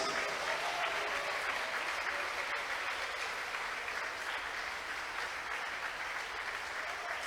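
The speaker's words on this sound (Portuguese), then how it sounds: "Vamos aplaudir a Jesus?" A church congregation applauds for Jesus, sustained, steady clapping from many hands that fills the room without letup for several seconds.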